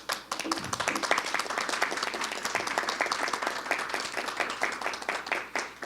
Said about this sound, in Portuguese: Para ele, eu peço uma salva de palmas.